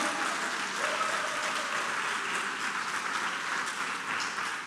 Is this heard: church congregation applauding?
yes